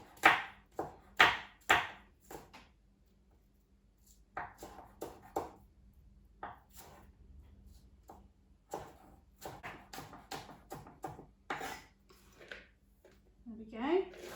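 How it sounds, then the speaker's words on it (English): A knife slicing home-grown red cabbage thinly on a board, giving a series of crisp, close chopping cuts in bursts, with a person talking between them. "So I'm trying to slice these up quite thinly."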